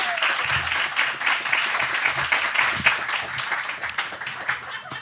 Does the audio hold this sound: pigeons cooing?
no